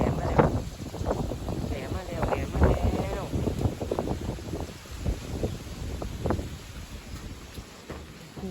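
Strong wind gusting through a forest ahead of rain, rough buffeting roars rising and falling across the whole stretch, close to the microphone, with a person talking over it.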